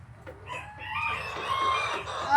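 A hen clucks and squawks in a row of nest boxes, her calls close and continuous with a rising, excited edge and no voices over them.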